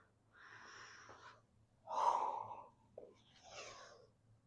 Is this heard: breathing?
yes